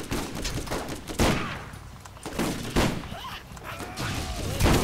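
Borderlands video game gunfire: loud, repeated bursts of shots in quick volleys over a dense, noisy battle soundscape, with a brief electronic chirp near the end.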